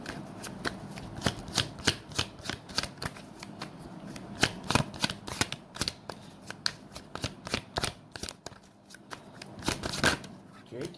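Tarot cards being shuffled by hand, a rapid run of crisp riffling flutters and taps close by, continuing steadily throughout with no talking.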